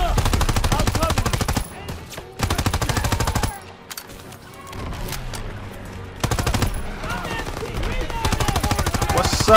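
Machine gun fire crackles in rapid bursts during a Call of Duty: WWII battle, loud volleys broken by short lulls, with voices calling out between the bursts.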